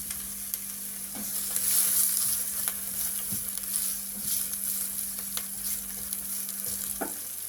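Onion frying in a multicooker at the start of a pilaf, a steady soft sizzle with occasional light stirring scrapes and small pops, close and alone without talk.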